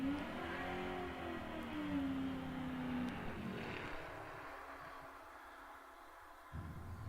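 A Chevrolet Camaro launches down the strip at Kil-Kare drag racing's Old Time Drags, its engine revving and shifting in rising and falling sweeps as it pulls away and fades into distance.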